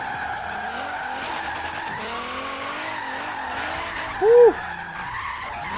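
A slammed Nissan 240SX drifting in Forza Horizon 3 produces a continuous tire skid over a droning engine, rising to a sharp squeal near the end, with one excited voice exclaiming over it.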